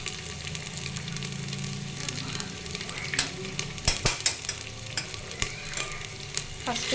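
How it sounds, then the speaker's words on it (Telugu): Ginger garlic paste frying in a pan for a brinjal curry, a continuous close sizzle with spatula scrapes and clinks that grow sharper and more frequent toward the end, no talk. "అల్లం వెల్లిగడ్డ పేస్ట్ మంచిగా వేగిపోయిన తర్వాత"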